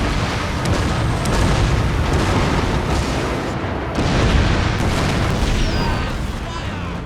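Naval cannons fire in the Shogun 2: Fall of the Samurai strategy game, a dense, continuous roar of booming shots and explosions rolling together at high volume.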